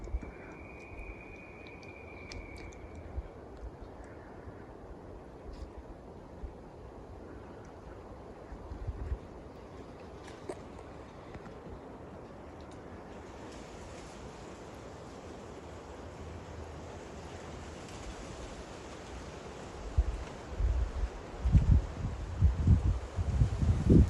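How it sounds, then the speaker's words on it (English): Wind gusts outdoors along the Florida Trail's Big Bend to Suwannee River section, a steady low rush that builds louder and rougher toward the end. "Wind's picking up."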